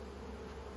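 Honey bees drone in an open hive during an inspection, a dense, continuous close buzz that fills the moment with no voices over it.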